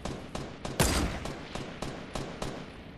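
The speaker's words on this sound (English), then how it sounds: "Cole, what are you shooting at?" Gunfire in the video game Fortnite rattles off in a series of sharp, evenly spaced shots, one louder blast among them, close and dry with no talking.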